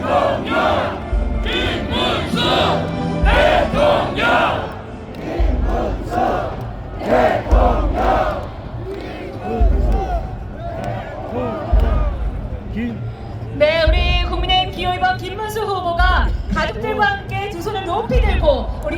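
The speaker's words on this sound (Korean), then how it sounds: "여러분 다시 한번 대통령을 외쳐주십시오" Crowd at an outdoor presidential campaign rally in the city hall plaza chanting the candidate's name in loud rhythmic bursts, with an amplified announcer's voice leading between the chants.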